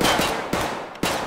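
Three sharp gunshots from the video game Escape from Tarkov crack out at roughly half-second intervals, each a loud broadband burst trailing off into a noisy game background with no talking.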